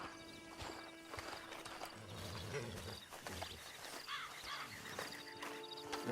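A horse in Red Dead Redemption 2 clops its hooves in an uneven walking rhythm and gives a snort or whinny, set over outdoor game ambience at a moderate, fairly soft level.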